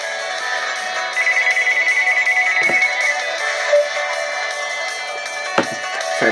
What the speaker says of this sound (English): Random phone call.